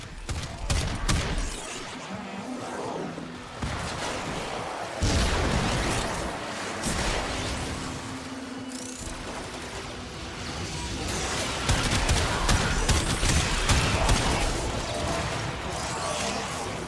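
Sustained gunfire and repeated explosions from a corrosive weapon in the Warframe video game keep up a dense, loud barrage of bursts and booms with only brief lulls.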